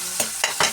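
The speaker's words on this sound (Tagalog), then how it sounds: "Nilagyan na natin yung kamatis mga idol at imimekos-mekos natin yan." Tomatoes fry in a pan and are mixed with a utensil, giving three quick scraping strokes over a continuous loud, close sizzle.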